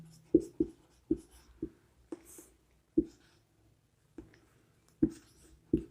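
Chalk or marker strokes on a board during a probability lesson, about ten distinct tapping and scraping strokes in an irregular rhythm, close and fairly clear with no talking over them.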